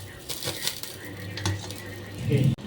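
Boiled beef being lifted out of a metal cooking pot, with light clinks and scrapes of utensils against the pot, a few soft knocks and a brief louder clatter near the end.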